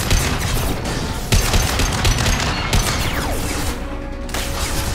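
A hacked turret in Mass Effect 2 fires loud, rapid bursts of gunfire with sharp cracks and mechanical clatter amid combat noise, no voices over it.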